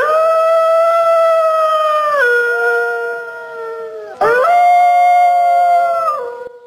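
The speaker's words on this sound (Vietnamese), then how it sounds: "Wolf." A wolf howls loudly and close in two long, wavering, sustained howls, the first gliding downward and the second rising sharply before sliding down, set among forest animal sounds for children.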